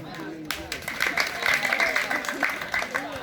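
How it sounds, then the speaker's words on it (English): A group of high school students claps for themselves during a community development talk, a busy, steady patter of applause lasting a few seconds with a voice speaking over it. "Can you clap for yourself?"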